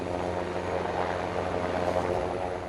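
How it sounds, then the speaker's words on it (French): Super Puma rescue helicopter of the French air force on Corsica, its rotor and turbine drone steady and loud throughout, with no talk. "Grâce à des hélicoptères adaptés, l'armée de l'air complète les moyens de secours existants sur l'île de Beauté."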